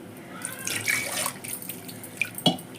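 Water poured into a blender jar to rinse out leftover masala for a bottle gourd sambar, a short splashing pour with a couple of clinks and drips, close by.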